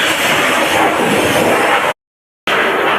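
A Glamour X 125 motorcycle being pressure-washed in a service-centre washing bay gives a loud, steady, broadband hiss of water spray that cuts out briefly and then resumes.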